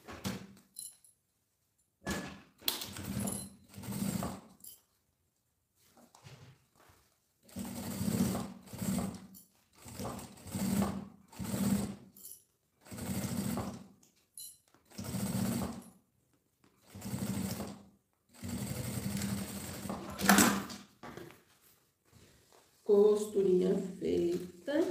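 A sewing machine stitches a seam on a toiletry bag in short, rapid bursts separated by pauses, about a dozen runs of close mechanical whirring with quiet handling between them.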